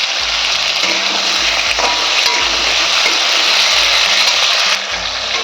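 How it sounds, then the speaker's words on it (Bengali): Long strips of potato frying in oil in a pan for a Bengali rui fish curry with drumsticks, a loud steady sizzle with faint crackles throughout and no talk. "আলুটা আমার ভাজা হয়ে গেছে"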